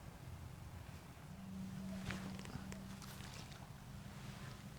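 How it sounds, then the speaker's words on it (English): Steady low mechanical rumble with a droning engine hum and occasional clanks from nearby roadworks, filling the background continuously beside a small river in winter. "Apologies for the noise, there's some roadworks or something."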